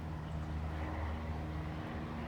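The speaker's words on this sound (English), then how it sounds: "Wait till you hear that awesome sounding Cobra exhaust system." A used 2010 Yamaha V-Star 950 V-twin cruiser motorcycle fitted with a Cobra exhaust idles with a steady, deep rumbling drone, heard alone and up close for a couple of seconds.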